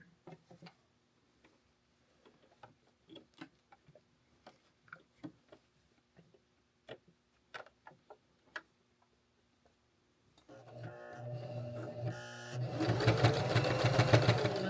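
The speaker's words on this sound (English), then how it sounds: "you're going to start your sewing at the top of his head, and you're going to end on the other side" A sewing machine stitching fleece fabric for a snowman, running steadily and loudly for the final few seconds after a stretch of quiet, scattered clicks and taps.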